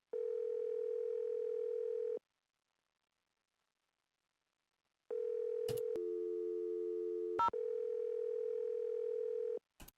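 Telephone dial tone in a Nancy Drew video game, a steady clean electronic hum that cuts off, resumes after a pause, then briefly changes pitch with a few sharp clicks before continuing.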